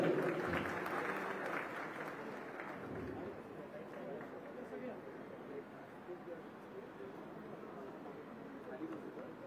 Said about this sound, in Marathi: वेदांग इन्फ्राटेकचे सगळे या साईडला जोरदार टाळ्या वाजवायच्या